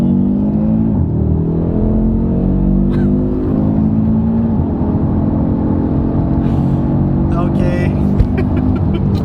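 A 2022 Audi RS3 accelerates hard from a standstill toward 100 km/h, its engine note climbing steadily through the gears with brief shift dips, loud and continuous inside the cabin, with a short spoken word and some chatter near the end.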